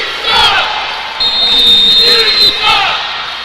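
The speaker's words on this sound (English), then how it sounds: "obviously the crowd doesn't like it" A football crowd at a New England Cavalry versus Richmond Roughriders game reacting angrily to a penalty call: loud jeers and shouts that rise in surges, with a brief high whistle-like tone in the middle.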